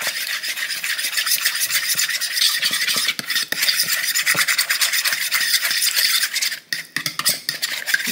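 A cornstarch mixture is stirred in a bowl, making a continuous, close, rhythmic scraping and swishing of the utensil against the bowl with only a brief break near the end.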